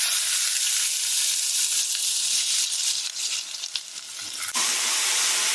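Finely chopped onions drop into about two spoons of hot oil in a pan and fry with a loud, continuous sizzle and hiss, with stirring noises, close up and with no talking.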